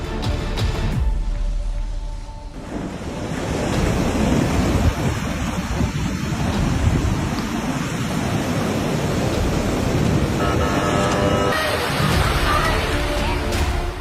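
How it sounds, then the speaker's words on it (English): A fast-flowing flooded river surges past a collapsing wooden bridge, a loud, dense, unbroken roar of rushing water that stays steady throughout. "The rising and fast-flowing river water overwhelmed the wooden bridge, leading to its complete collapse."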